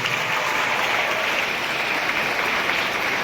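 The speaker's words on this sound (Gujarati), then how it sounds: "ચાલો આપણે એમને તાળીઓના ગડગડાથી વધાવી લઈએ" Students and guests at a high school Guru Purnima celebration applaud the rangoli competition participants, a sustained, even roar of many hands clapping together from a large crowd, with no voices standing out.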